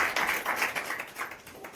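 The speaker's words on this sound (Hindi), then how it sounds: "सभी लोग जोर से तालियां बजाएंगे।" A church congregation claps loudly during a worship service, a short burst of close, uneven hand claps with a few louder accents.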